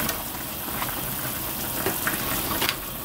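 Beef radish soup with tofu added simmering in a pot, a steady close bubbling hiss with a few small pops and clinks, even in level and free of talk.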